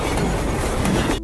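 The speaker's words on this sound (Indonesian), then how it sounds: "Suatu hari ada sebuah kereta yang melintasi gurun pasir." A train rolls across the desert in a loud, continuous rumble with clattering wheel noise, holding steady before cutting off abruptly at the end.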